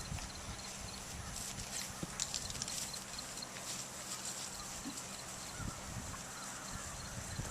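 A horse or mule on a rescue farm walks nearby, hooves clip-clopping in an irregular, fairly faint pattern over a soft outdoor background hiss, with no talking.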